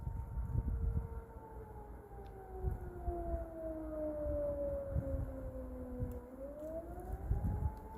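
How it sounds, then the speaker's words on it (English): A civil defense siren sounding during a test, a long wailing tone slowly falling in pitch and then rising again, heard from a distance over steady wind-like background noise. "Apparently doing a siren test,"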